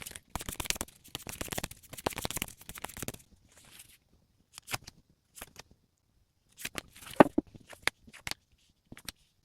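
Tarot cards shuffled and drawn from a deck, a dense burst of riffling and flicking for about three seconds, then scattered short card snaps and slides close up, with no talking.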